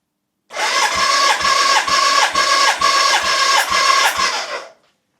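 A BMW K100 motorcycle engine cranks on the starter for a compression test, throttle wide open, giving about eight even rhythmic compression pulses over four seconds before stopping, loud and close with no talk.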